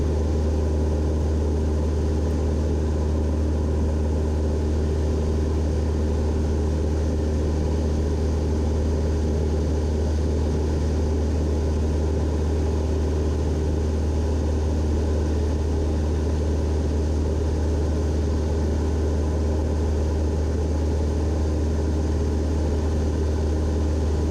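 Steady, continuous engine drone of a small propeller airplane in flight around 2,000 feet over Harris Ranch, a low, even hum heard alone at close range with no talking.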